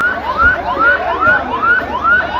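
Fire service vehicle siren at a market fire, loud rising wails repeating about every half second, close and unbroken.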